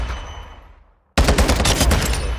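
Rapid automatic gunfire from a 7.62x51mm NATO rifle build in Call of Duty: Modern Warfare II, a loud, dense burst of shots erupting after a fading tail and near-silence, with no talking.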